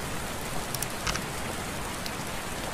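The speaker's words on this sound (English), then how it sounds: "Where's the rain sound effect, guys?" Steady rain as a sound effect, a continuous even hiss of drops falling on a surface with a few brighter patters, heard alone at moderate level with no voices.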